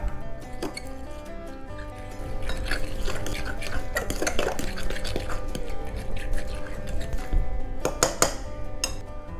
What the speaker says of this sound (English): now we want to mix this together thoroughly